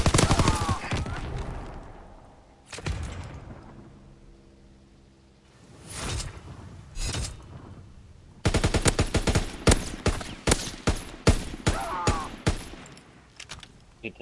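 Rapid automatic gunfire in a video game, several sharp bursts of fast, loud shots separated by quieter gaps holding brief whooshes and faint background sounds.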